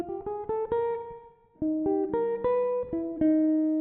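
Jazz guitar picking a harmonized walk-down melody, short clean chord stabs stepping downward in a halting rhythm with a brief gap midway, close and moderately quiet without talking.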